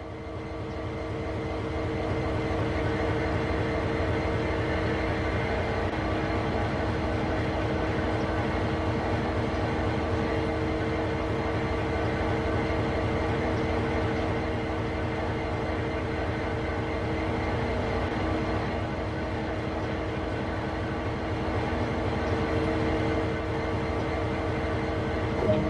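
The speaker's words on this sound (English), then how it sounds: "Using the rotation control, turn the table and locomotive to the indicated track." A locomotive turns slowly on a rail turntable in Train Sim World 2 at Sand Patch Grade, giving a steady, continuous mechanical rumble and hum that runs throughout with no talk over it.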